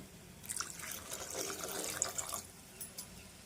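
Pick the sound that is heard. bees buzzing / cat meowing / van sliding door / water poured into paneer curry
water poured into paneer curry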